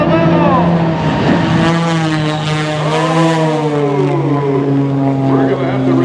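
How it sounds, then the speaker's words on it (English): A jet car racing at the Shaw Air Expo air show in 2016 gives a loud, sustained roar with shifting tonal whine that rises and falls as it passes, with an announcer talking over it. "There goes the jet car"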